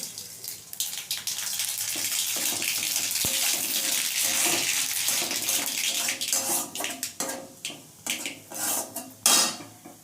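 Dried red chillies and mustard seeds go into hot oil in a pan for a tangy Bengali fish dish, a busy run of sizzling crackle with metal clinks and scraping, close and fairly loud.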